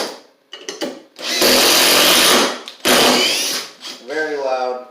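A loud Makita traditional impact driver runs in two sustained bursts of harsh hammering whine, with brief quieter gaps and lighter handling noise around them.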